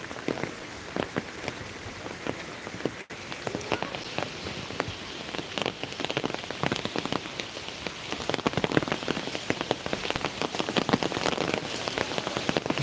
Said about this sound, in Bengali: আসলে বৃষ্টিতে ছাতাতেও কুলাইতেছে না শুধু মাথাটুকু সেফটি দেওয়া যায়